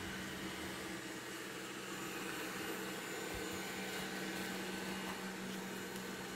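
A Xiaomi robot vacuum cleaner runs indoors with a steady, soft, unbroken hum and hiss, faint and constant throughout, with no voices.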